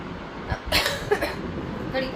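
A couple of short, harsh coughs from someone with a cold burst out close by amid faint background voices and room noise.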